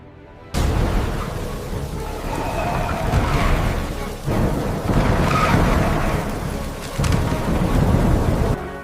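A thunderstorm with heavy rain and gusting wind roars loudly and steadily, swelling in surges with brief dips between them, with no voices.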